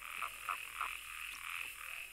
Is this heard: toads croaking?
yes